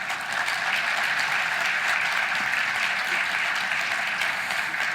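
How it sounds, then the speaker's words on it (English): A crowd at a Lion's Den program event applauds in continuous, even clapping that fills the whole stretch, close and fairly loud. "one more round of applause for our Lions."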